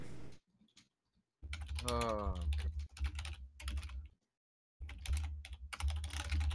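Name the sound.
computer keyboard typing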